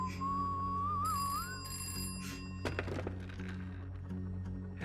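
A telephone rings repeatedly and goes unanswered in a teaser for the film Coolie, the ringtone sounding in bursts over a steady musical drone, with a sharp thud partway through and no speech.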